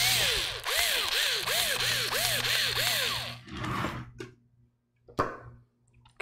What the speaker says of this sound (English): Definitely need my cordless driver on this.